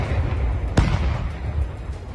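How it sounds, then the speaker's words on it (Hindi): Russian artillery gun firing in Donbas, a single sharp boom about a third of the way in that cuts through a constant low rumble of wind and distant noise. "डॉनबास से जो तस्वीरें सामने आई उनमें रूस की तोपें ऐसी गरजती दिखी"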